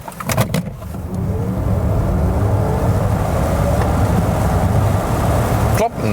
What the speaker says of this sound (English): Plop, and that's already 100 kilometers an hour or 62 miles.